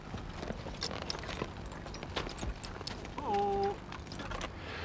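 Plough horses' hooves clip-clopping on a farm, a steady run of sharp, close hoofbeats with a brief tonal call near the end.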